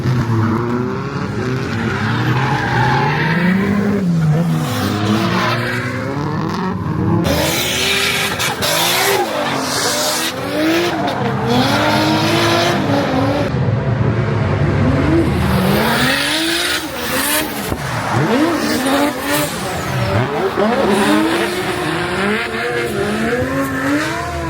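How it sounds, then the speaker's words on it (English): Drift cars at a Japanese drift event, engines wailing up and down through revs while tires squeal in long sliding bursts, loud and close, several passes overlapping with no voices. "we'll just let you guys enjoy some more drifting clips"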